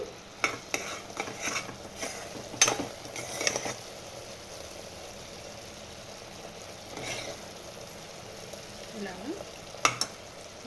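Ghee goes into a pot of cooking chana dal and sago payasam, giving a faint sizzle with soft stirring and scraping. A few sharper clinks of a utensil sound against the pan.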